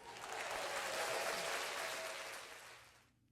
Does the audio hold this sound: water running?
no